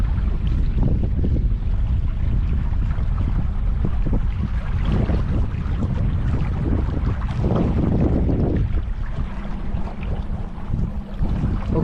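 Strong wind buffets the microphone on a boat ride at Hoover Dam, a constant loud rumbling gust with a steady hum of the boat underneath.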